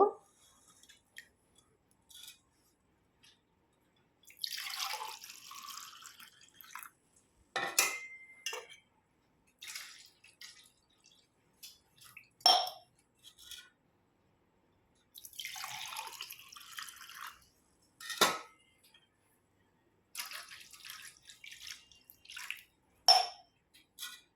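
Liquid from a homemade drink of jaggery, lemon and salt is strained in a kitchen, with scattered soft pours, drips and light clinks of utensils against a vessel, close and quiet with silences between.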